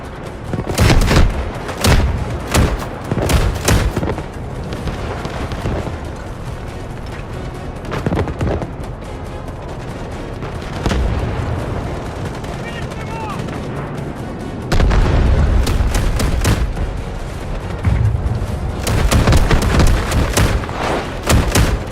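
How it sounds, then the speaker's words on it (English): Guided missiles launching and exploding in the shooter game Delta Force, heavy booms and gunfire bursts rolling through a loud, dense battle, with strongest blasts near the start, middle and end. "Guided missiles launched."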